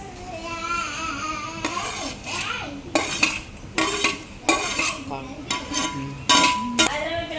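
Ghee-fried fresh dates go into milk in a pot for Ramadan sheer khurma, bringing repeated metal-on-metal clinks and scraping as a spoon stirs, in short uneven bursts close by over a steady background hiss.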